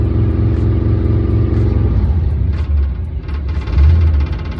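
A 1948 Ford F-1 panel truck's engine runs near and loud, a steady low idle rumble that shifts slightly in pitch partway through, with a brief rise in throttle near the end.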